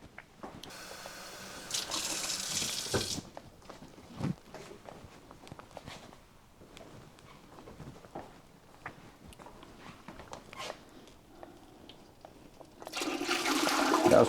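Water runs from a kitchen tap to rinse beef juices from a corned beef bag into a pot, in two loud broadband bursts at the start and end, with scattered clatter and handling noises between them.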